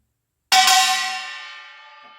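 A single bright metallic strike on a kkwaenggwari, a small Korean gong, rings out sharply, then decays slowly over about two seconds with a shimmering, sustained clang.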